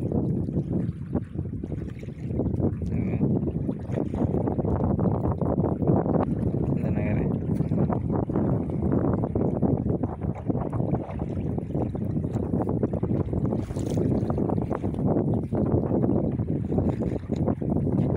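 Strong wind blows at the seashore during net fishing, heavy gusty buffeting rumble across the microphone with a boat-and-surf wash underneath, continuous and loud; voices talk now and then.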